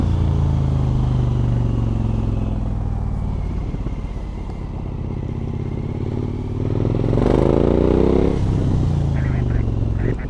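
Steady engine drone of a Suzuki V-Strom 1000cc adventure motorcycle on a test ride, with continuous road and wind rumble and a rise in revs near the end; a rider talks over it.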